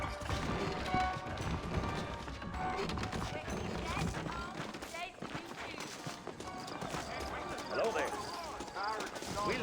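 Horse hooves clip-clop at a trotting pace amid busy Red Dead Redemption game sounds and music, with a voice speaking briefly over it.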